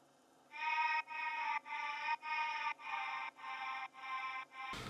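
The Arcade ambience preset from the Nobody Knows bank pulses in eight evenly spaced bright, buzzy tonal bursts, each roughly half a second, faint and steady over a low hum, with no voices.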